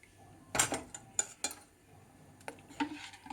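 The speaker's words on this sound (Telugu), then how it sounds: "కాకపోతే కలుపుతూ ఉండాలి, లేకపోతే ఉండలు కడుతుందండి." A utensil stirring a rice flour mixture in a pot, with a few distinct clinks and scrapes against the metal separated by quiet gaps, close and alone.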